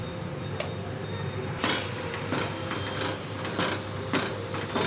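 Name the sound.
stirring spice powders into boiled peas for batani chaat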